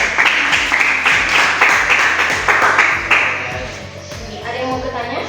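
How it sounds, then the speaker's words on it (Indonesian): Classroom audience of students clapping together for a presenting group, a steady burst of applause with some talk mixed underneath. "Oke, tepuk tangan lagi."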